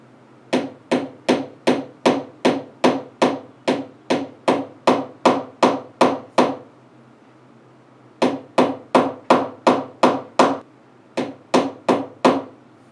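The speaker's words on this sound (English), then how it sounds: "we've successfully textured the top washer with the ball peen hammer" A ball peen hammer textures a copper washer for earrings with sharp, evenly paced metallic strikes. Three close, loud runs of taps are separated by short pauses, with no talking.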